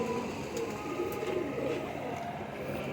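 Soft cooing of a Dab breed pigeon drifts over a low, steady background rumble, faint and somewhat distant.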